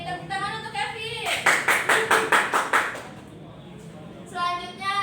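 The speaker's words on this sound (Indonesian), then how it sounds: "Tepuk tangan" Students in a fifth-grade classroom clap their hands together in a short burst of about eight even, rhythmic claps, with voices speaking just before and after.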